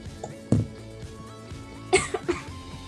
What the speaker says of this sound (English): was the most polite cough I've ever heard